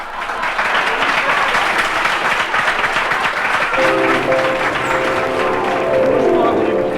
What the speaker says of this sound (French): Nous allons maintenant applaudir sur ce plateau une révélation du caveau de la République